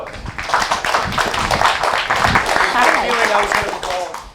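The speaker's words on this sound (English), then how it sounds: "Yes, let's give a round of applause." An audience at a CreativeMornings talk breaks into a round of applause, a lively burst of clapping that carries on steadily throughout, mixed with some voices and cheering.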